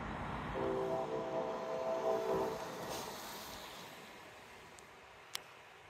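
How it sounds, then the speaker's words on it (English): A heavy eastbound Norfolk Southern loaded coal train rumbles past with a steady low roar and clanking hopper wagons, fading into distant hum, with a brief sharp click near the end. "Loaded coal train"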